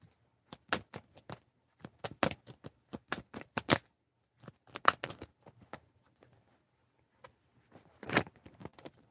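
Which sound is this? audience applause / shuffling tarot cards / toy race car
shuffling tarot cards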